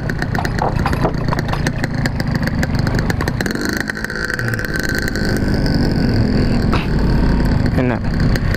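A motorcycle engine drones steadily while riding on a rough road, loud and close with a low rumble and faint rattles throughout.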